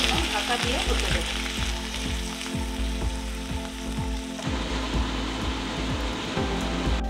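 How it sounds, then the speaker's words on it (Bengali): Cauliflower samosa filling simmering covered with a little water in a pan, a loud continuous sizzling and bubbling with rhythmic popping throughout. "কিছুক্ষণের জন্য ঢাকা দিয়ে ফুটে দেবো।"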